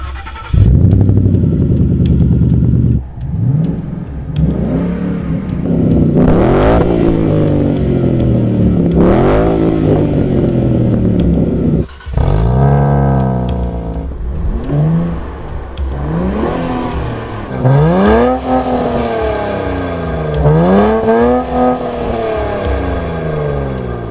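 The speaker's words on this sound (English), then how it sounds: "And we're gonna do a drag race." A 2014 Ford Mustang GT and a Nissan Z Nismo launch in a drag race. Their engines roar loudly up through repeated rising rev sweeps and gear changes, close and unbroken by talk.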